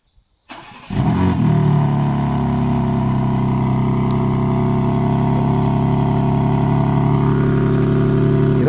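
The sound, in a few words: BMW engine cold start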